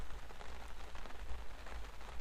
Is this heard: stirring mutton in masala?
no